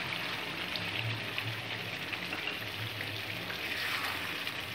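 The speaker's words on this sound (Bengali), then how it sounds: "এবার আমি চায়ের লিকারটা মেশাচ্ছি" Chicken kosha gravy sizzling steadily in a pan on high flame as tea liquor is stirred in, a continuous near fry hiss with a soft low rumble and no talk.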